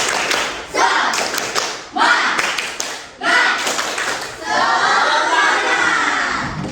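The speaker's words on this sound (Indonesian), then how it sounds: "Lagi sekali. Tepuk semangat." A classroom of students repeats the tepuk semangat spirit clap, rhythmic clapping in short patterned bursts mixed with shouted chanting, finishing in a sustained group yell, loud and close.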